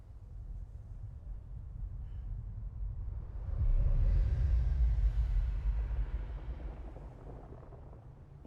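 A deep explosion rumble from the video game Death Stranding swells from a low murmur into a loud, heavy roar around the middle, then slowly fades back to a dull low rumble.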